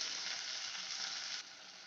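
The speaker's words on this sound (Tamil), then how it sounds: "தக்காளி நல்லா வதக்கிக்கோங்க இந்த வெங்காயம் தக்காளி நல்லா வதங்கட்டும்" Onions and tomatoes sautéing in a pan for a prawn curry, an even close hiss of frying that drops slightly in level near the end, with no voices.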